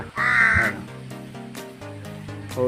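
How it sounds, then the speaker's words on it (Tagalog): A single loud, harsh caw from a crow close by, followed by quieter rustling and faint background noise. "Yan yung galang uwak."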